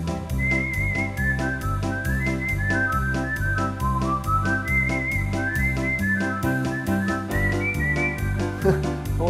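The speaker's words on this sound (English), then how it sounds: "you didn't know I could whistle, did you?" A person whistles a lively tune over organ music, the whistled melody rising and falling above a steady rhythmic accompaniment with no talking.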